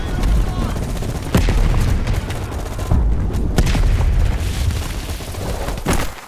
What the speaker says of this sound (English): You woke up in the middle of a firefight.